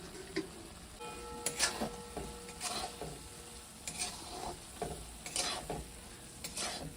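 Maggi noodles are stirred with Amul butter in a hot pan: repeated close scraping strokes of a spoon against the pan over a soft, continuous sizzle, no speech.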